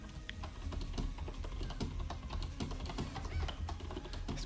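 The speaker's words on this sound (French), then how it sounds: "je martèle encore mon clavier" Hard, rapid keystrokes hammered on a computer keyboard during a French-language online tournament broadcast, a dense, uneven run of sharp clicks and clacks close to the microphone over a low background hum.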